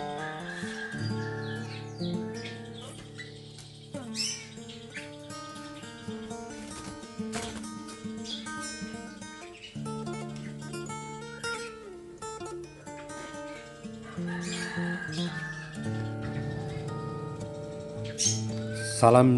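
Orange-headed thrush (anis merah) singing close by in long, varied melodic phrases of chirps, whistles and trills that run continuously with little pause.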